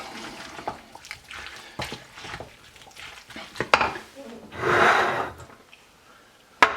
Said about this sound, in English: Mix that all up.